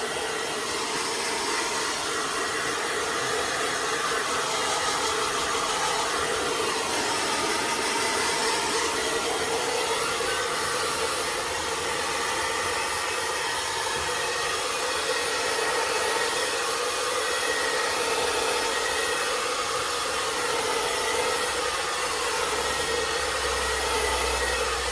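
A steady, loud hair dryer blows hot air continuously at close range while grooming a Cockapoo, a constant airy roar with no pauses and no voices.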